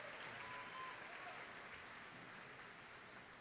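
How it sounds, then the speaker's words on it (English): Commencement audience at the University of Wisconsin-Parkside applauding, a distant, even wash of many hands clapping that fades slightly toward the end, heard faintly from across a large hall. "Give yourself a round of applause."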